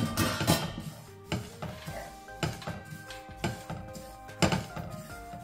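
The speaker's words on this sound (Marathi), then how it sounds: "हे बघा कसा आवाज येतोय, असे उडायला लागले की समजायचं आपले तीळ भाजले गेले" Sesame seeds dry-roasting in a pan over a low flame, crackling and popping in irregular bursts with scattered sharp clicks and a faint metallic ring of a spoon stirring against the pan.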